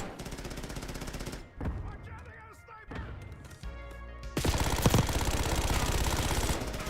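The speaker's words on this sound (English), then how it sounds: "I'm sniping with the SMG, I'm the sniper" Rapid SMG gunfire from a Call of Duty match comes in dense bursts, stopping for a few seconds in the middle and then returning louder and steadier, with game effects and a voice talking over it.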